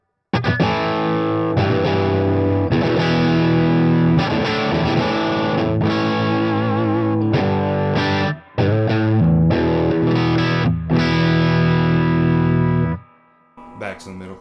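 A distorted electric guitar plays thick, driven chords and riffs through a Mesa Boogie Mark V:25 amp with mid boost on, sustained and loud with a punchy midrange, ending with a brief fade.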